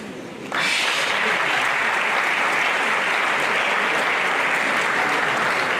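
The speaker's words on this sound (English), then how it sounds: "one person I thought we should applaud as well, the wife." An audience at an economic development lecture bursts into loud, sustained applause after a short quiet start, thick, even clapping that carries on unbroken.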